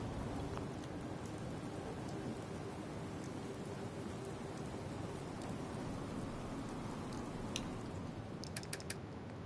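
Steady rain falling in the Fallout 4 game world, a dense, even hiss of drops with faint scattered clicks near the end, no talk over it.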